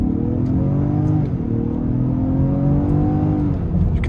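A 2022 Lincoln Aviator with 400 horsepower accelerates in Excite mode, a steady, loud engine drone with rising tones heard from inside the cabin, no talk.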